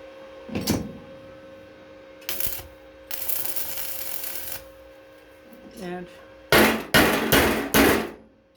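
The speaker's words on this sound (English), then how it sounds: "apply some hammer." Sharp metallic strikes ring out in scattered bursts as a weld is hammered, with a longer grinding stretch in between and a quick run of loud, closely spaced hammer blows near the end.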